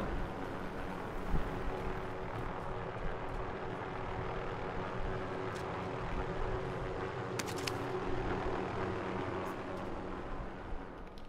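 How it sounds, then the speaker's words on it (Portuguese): A helicopter's rotor and engine in Call of Duty: Modern Warfare drone steadily overhead, a constant rumble that never fades, with a brief metallic rattle partway through. "helicóptero aí, pô."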